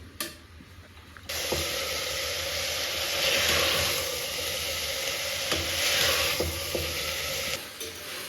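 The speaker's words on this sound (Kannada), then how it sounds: "ಫ್ರೈ ಆಗ್ತಾ ಇದೆ" Beetroot pulao vegetables fry in a pan with a steady, close sizzle that swells in louder stretches, joined by occasional scraping clicks of stirring; nobody speaks.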